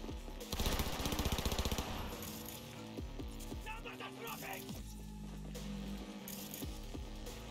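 A tech shotgun blasts in a Cyberpunk 2077 firefight against Russian enemies, a dense burst of rapid loud shots early on followed by scattered gunfire and clinking shell sounds over game noise, with a voice talking.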